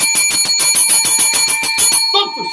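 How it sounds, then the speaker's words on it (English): A bell rings in a rapid, loud run of a dozen or so evenly spaced metallic strikes, close and bright with a sustained ringing tone, ending in a brief trailing jangle. "Ring that bell, man. Ring that bell."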